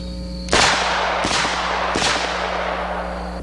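Three loud, booming shots from a 44 Magnum revolver with a 4-inch barrel ring out close by, spaced under a second apart, each with a sharp crack and a ringing decay over a steady low hum.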